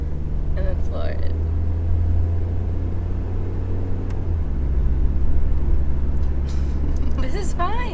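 A 100-horsepower Honda Civic engine drones loudly as it accelerates at full throttle, a steady low rumble rising slightly in pitch and strength, with people talking over it from inside the car.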